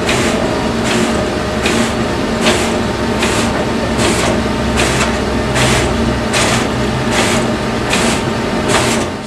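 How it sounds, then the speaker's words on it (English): A Canon ProLog well log printer printing a full color log, running with a steady mechanical whir and regular rhythmic pulses roughly every second, loud and close with no talk. "I went ahead and opened up a sample log file, and I'm going to submit it to the printer."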